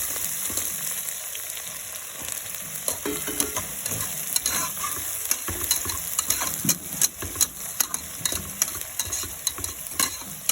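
Onions fry in hot oil for a batch of kalathappam, a dense, steady sizzle and crackle with occasional stirring clinks, close and continuous without any talk.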